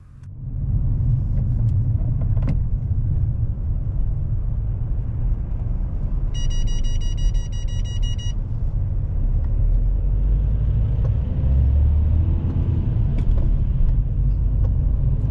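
A car drives slowly on a driving mock test, easing down through a width restriction. A steady low cabin rumble of engine and road noise runs throughout, with a brief electronic beeping chime partway through.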